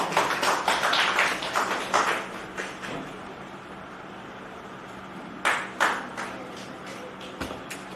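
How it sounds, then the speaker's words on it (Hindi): Audience at a poetry festival event applauding, a fairly close burst of clapping that fades out, then a few scattered claps return toward the end. "बड़ी जोरदार तालियां बजाइए सत्येंद्र जी के लिए"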